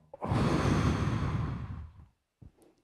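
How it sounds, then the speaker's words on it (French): A single deep breath drawn in and let out as a long, loud breathy sigh lasting nearly two seconds, close to the microphone, followed by a short pause and a faint soft breath. "Une respiration. Un, deux, trois."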